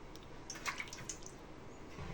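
Water drips and trickles into a bowl while goat meat is rinsed clean, a few faint, quick splashes and drops close by in an otherwise quiet kitchen.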